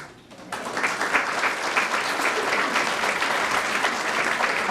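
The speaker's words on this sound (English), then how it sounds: "this group deserves a round of applause" An audience at a women's business expo breaks into loud, sustained applause that begins sharply and holds as a dense, even clatter of clapping hands.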